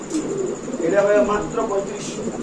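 Soft, throaty coos of Spanish pigeons roll close by, overlapping with a person speaking nearby.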